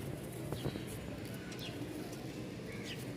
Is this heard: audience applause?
no